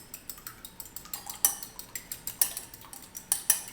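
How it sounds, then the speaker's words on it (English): An egg being whisked for a pastry egg wash, with a utensil tapping a bowl in quick, steady, light clicks that carry on throughout, close and fairly faint, with no talking. "I'm going to go ahead and whisk this together."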